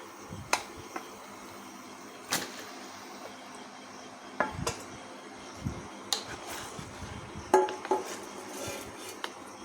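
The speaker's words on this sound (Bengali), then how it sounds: "এবার এর মধ্যে আমি মাংসটা দিয়ে দিচ্ছি" Marinated chicken goes into cooked, fried masala in a pan for chicken curry. Sporadic metal clinks and spoon knocks on the pan ring out over a quiet background sizzle.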